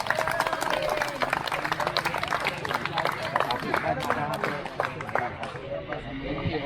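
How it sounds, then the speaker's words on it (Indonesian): A group of scouts claps their hands at an amateur radio JOTA session; dense, brisk clapping continues for several seconds with voices and crowd chatter mixed in, fading slightly at the end. "Tepuk tangan dulu kakak-kakak."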